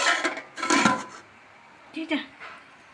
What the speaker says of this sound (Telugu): ఇప్పుడు మూత పెట్టేసి ఒక పది నిమిషాలు ఉడికించుకుందాం